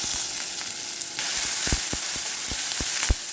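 Chopped onions and garlic sautéing in oil in a pan give a bright, hissing sizzle throughout, close by, with scattered light taps and stirring knocks from a spoon.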